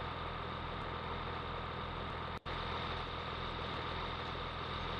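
A tractor engine idles in the Farming Simulator 17 video game with a steady, continuous mechanical drone. It holds at an even level apart from one brief cut-out midway.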